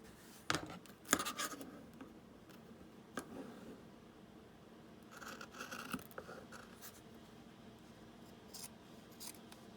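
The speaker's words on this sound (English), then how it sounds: "if you fold in half, it just makes it easier to cut here" Scissors cut through folded fabric for craft flowers in several separate close snips and scrapes with quiet pauses between.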